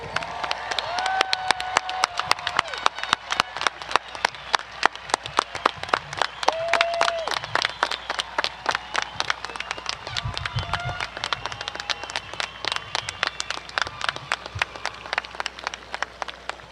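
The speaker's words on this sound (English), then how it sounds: "let's have one big round of applause for the whole group" A large crowd at a 2021 high school graduation ceremony claps in a dense, steady ovation lasting the whole stretch, with sharp individual claps standing out near the front and occasional whoops and cheers rising above it.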